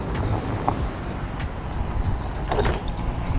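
An MIA Four X4 electric ATV scooter driving in sport mode outdoors, giving a steady broadband rush of wind and road noise with a faint motor whine, continuous and fairly loud throughout.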